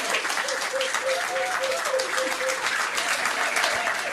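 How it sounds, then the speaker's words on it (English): A room full of people at a trivia quiz night claps steadily, a dense patter of applause with a faint voice or tone underneath. "Give them a round of applause."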